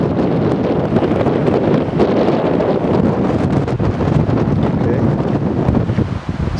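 Strong, gusty wind roars and buffets the microphone atop Lookout Mountain in Colorado, loud and continuous across the whole stretch with no break.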